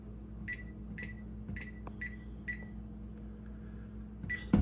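A kitchen timer, set for cast iron seasoning in the oven, gives five short evenly spaced beeps followed by one more near the end, faint over a steady low hum.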